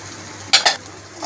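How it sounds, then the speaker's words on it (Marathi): Ginger-garlic paste ground with coriander and spices stirred in hot oil for a rustic village-style mutton curry: a low, steady sizzle broken by two quick, close scraping stirs and a soft clatter. "अद्रक लसूणची पेस्ट घालणार आहे कोथिंबीर टाकून केलेली पुन्हा परतून घेणार आहोत तेलामध्ये"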